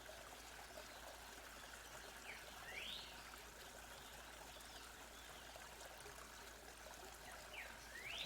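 Steady broadband rush of a jungle waterfall, constant and moderately distant, with a few faint bird chirps rising above the water noise.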